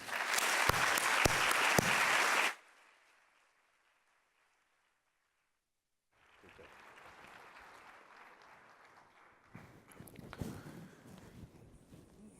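Applause from a lecture audience welcoming a speaker to the stage, a loud, dense burst of clapping that fades quickly, followed by silence and then quiet room noise.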